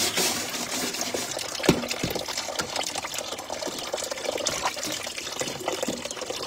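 Water runs steadily from a household tap during washing, a continuous close gush and splash with occasional clinks, and no talking.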